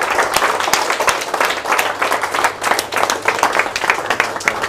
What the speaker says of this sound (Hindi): चेयर से खड़े होकर जोरदार तालियों के साथ स्वागत कर सकते हैं